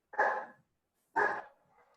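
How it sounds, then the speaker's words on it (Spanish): A pet dog barks twice indoors, two loud, close, separate barks about a second apart with a short trailing whine after the second, and no talk over them. "uy, mi perro"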